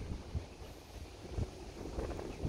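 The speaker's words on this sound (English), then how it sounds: "It's a bit windy, folks, but never mind." Wind blows steadily outdoors near the coast of Carriacou, buffeting the microphone with low rumbling gusts and a few soft thumps.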